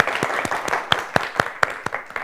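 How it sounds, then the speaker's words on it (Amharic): A studio audience at a children's quiz show claps briefly and unevenly, with a handful of distinct claps among a soft patter that fades out within a couple of seconds. "አጨብጭቡላቸው"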